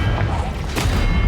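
A Confringo blast spell from Hogwarts Legacy on Nintendo Switch bursts in a dense, booming low rumble with a sharper crack near the middle, loud and continuous through the whole moment.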